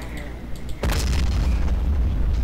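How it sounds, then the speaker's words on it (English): A tank blows up in a video game battle, a sudden loud boom cutting in after low rumbling engine noise and trailing into a sustained heavy roar. "The explosion was so great, it destroyed my tank."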